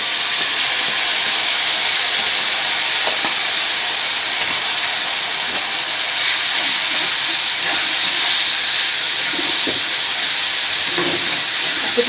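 Sliced onions with ginger-garlic paste fry in a hot pan for a mutton liver dish, giving a constant loud hiss and crackle with a few faint clicks and scrapes underneath.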